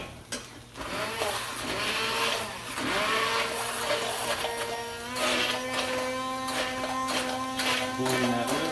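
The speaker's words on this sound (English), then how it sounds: "We're gonna get our handy dandy hand blender." A handheld immersion blender whirs in homemade lasagna sauce in a home kitchen, its buzzing motor rising and dipping in pitch as it churns in steady bursts, close and loud.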